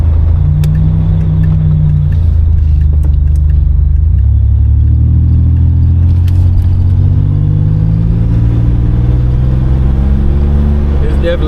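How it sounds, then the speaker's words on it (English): Turbocharged engine of a 1987 Buick Grand National on the road, a loud, close, deep rumble whose pitch drops after a shift and then climbs steadily as the car accelerates. "It's definitely fun hearing that turbo."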